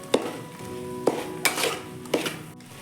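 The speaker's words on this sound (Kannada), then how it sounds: "ಸ್ವಲ್ಪ ಬಿಸಿ ಆಗೋ ತನಕ ಫ್ರೈ ಮಾಡ್ಕೋಬೇಕು" High-flame frying of cauliflower gobi for gobi manchurian, with a spatula clanking sharply against the pan four times over a soft, continuous sizzle.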